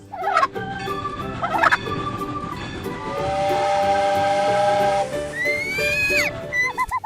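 A turkey gobbles in a short burst, set among steam-whistle toots and hissing from a toy animal train, all fairly loud and with no talking.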